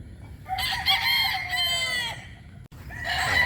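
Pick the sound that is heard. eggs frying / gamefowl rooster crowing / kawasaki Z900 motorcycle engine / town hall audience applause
gamefowl rooster crowing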